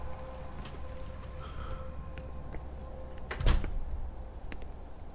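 A door swings open with a short, sharp clunk in the horror video game Song of Horror, set against a quiet, hollow ambience.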